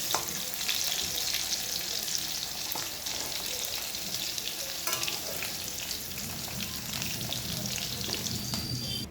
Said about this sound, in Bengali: এইবারে আমি এই তেলে আলুটা ভেজে নেব